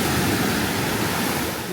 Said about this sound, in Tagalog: listen to the ocean waves